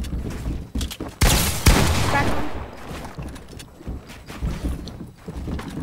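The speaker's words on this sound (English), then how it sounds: "that was you who shot your pump?" A pump shotgun fires in a video game, a sharp loud blast followed by a second burst, with wind-like rumble and scattered clatter around it.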